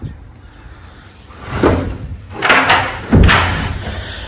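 A large door on a Simply Solar Solar Gem greenhouse is worked open and shut, giving a few close, loud scraping slides and thudding knocks as the panel moves and latches over a few seconds.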